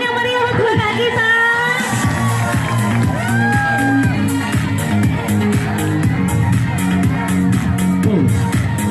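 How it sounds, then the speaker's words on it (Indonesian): A crowd at a school fashion show in Aceh Tamiang, Indonesia, cheers and shouts over loud music, with whoops rising throughout; clapping is hard to pick out beneath the steady din. "Berikan tepuk tangan yang meriah untuk anak kita."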